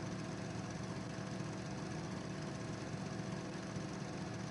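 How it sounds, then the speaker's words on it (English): A vehicle engine in the survival shooter Deadside drones steadily and continuously, a rough buzzing motor hum at constant loudness with no talk over it. "I heard an engine over there"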